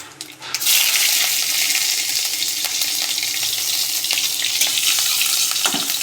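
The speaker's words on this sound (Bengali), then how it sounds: "তেল গরম হয়ে গেছে, এবার আমি তেলে ফোড়ন দিয়ে নেবো। দিয়ে দিচ্ছি কালো জিরে, আর দিয়ে দেবো কয়েকটা কাঁচা লঙ্কা।" Black cumin seeds and green chillies dropped into hot oil, a loud, dense sizzle bursting in after a brief lead-in and hissing steadily throughout with small pops.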